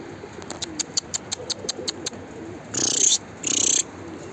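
Pigeons coo in a steady train of soft repeated pulses, followed by two short bursts of wing fluttering close by. Faint background noise sits underneath.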